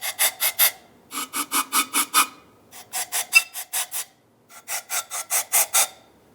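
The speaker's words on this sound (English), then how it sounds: "Continue on with some compressed air inside of each of these ports." Compressed air is blown into the intake manifold ports of a 2010-2013 Ford Transit Connect during an intake gasket replacement, heard as close, sharp hissing bursts fired in quick rhythmic groups of four to seven with brief pauses between.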